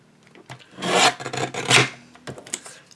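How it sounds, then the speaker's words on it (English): A paper trimmer cuts card stock in a few rasping slides, close and fairly loud, with short scraping strokes and small clicks. "And then I'm going to trim it on the top."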